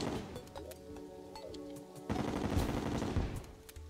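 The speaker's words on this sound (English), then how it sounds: "So every now and then there'll be like an exploding bullet." Rapid gunfire with exploding bullets in the video game Terraria, a dense burst of overlapping shots and pops that grows louder and busier halfway through, with no talking.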